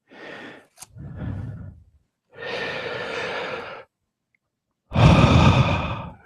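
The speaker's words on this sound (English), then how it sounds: "You can hear me breathing." A man breathes heavily right into the microphone: several long, loud sighing exhales and inhales in an uneven rhythm, separated by short silences, with one sharp sniff near the start.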